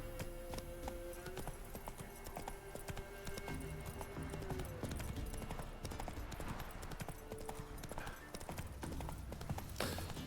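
The horse Roach trots in The Witcher 3, with a steady, close clip-clop of hooves running throughout over game ambience and a faint background hum.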